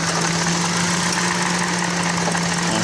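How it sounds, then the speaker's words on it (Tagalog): A misfiring Toyota Vios engine idles roughly and loudly up close, a steady droning hum with an uneven, stuttering pulse running through it. "Maingay yung makina oh"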